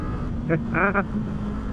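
A 2026 Kawasaki Z500 SE motorcycle engine drones steadily at close range while accelerating up a steep hill, with a brief voice-like burst partway through.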